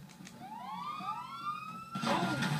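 Police car siren in the video game GTA 5, rising wails sweeping upward twice before a louder burst of noise takes over, heard over game engine sounds.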